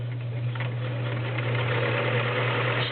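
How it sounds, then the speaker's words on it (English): A vintage Kenmore model 1660 Convertible Free Arm sewing machine stitches steadily, its motor giving a smooth, continuous low hum with a soft mechanical whir, close by and unbroken, with no voices. "I just love the sound of the Kenmore"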